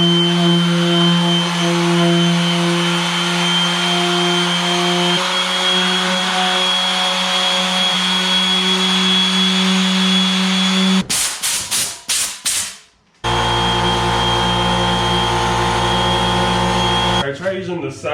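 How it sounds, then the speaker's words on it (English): A power sander whines steadily at close range on a 2020 Kawasaki ZX6R motorcycle fuel tank in a garage for a long stretch, then cuts out with a few stuttering bursts before starting again, with a voice talking over it. "So I'm ready to start sanding."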